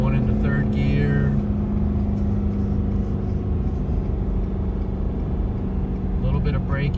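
A 2022 Ford F350 truck towing a load rumbles steadily near and loud as it brakes and the transmission downshifts, a low engine drone throughout with road noise, and someone speaks over it.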